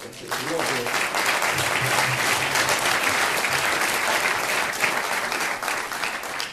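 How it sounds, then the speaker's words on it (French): A large audience applauds at a French conference on identity, the clapping dense, loud and sustained for the whole stretch, without pause. "Je pense qu'on peut les applaudir."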